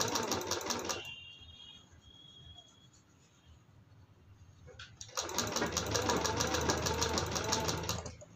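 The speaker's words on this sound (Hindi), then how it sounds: "फिर यहाँ पे इसी टाइप से सिलाई लगाएंगे" A sewing machine stitches piping onto a long-sleeved blouse at home, whirring close for a second, pausing into quiet for several seconds, then starting again in a louder steady run.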